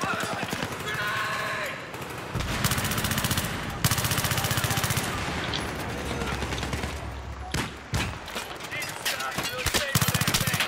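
AK-74M assault rifle fire in Battlefield 3 on the Canals map comes as rapid, loud automatic bursts of sharp cracks, broken by short pauses and joined by other gunfire around it. There is no talking.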